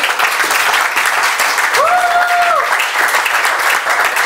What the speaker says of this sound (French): tu peux acclamer pour toi-même